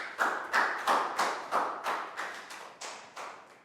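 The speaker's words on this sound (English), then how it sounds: "Big round of applause for Net." Small classroom round of clapping from a group of young pupils, about nine distinct, evenly spaced claps over a few seconds, close and fairly loud, no talking.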